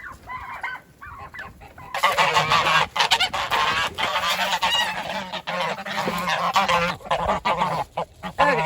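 Geese honk loudly and repeatedly nearby, a raucous overlapping chorus with short pauses, mixed with some clucking fowl.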